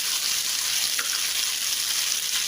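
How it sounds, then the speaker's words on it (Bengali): Small parshe fish fry in just a little oil, giving a constant close, even sizzle with no pauses. "পার্শে মাছগুলো এতে ভেজে নিচ্ছি।"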